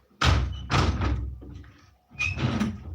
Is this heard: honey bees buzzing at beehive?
no